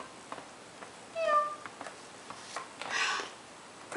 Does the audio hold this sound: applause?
no